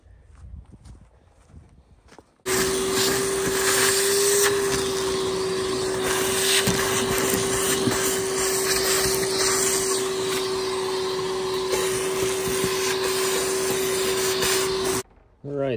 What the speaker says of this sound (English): Actually, vacuum it out.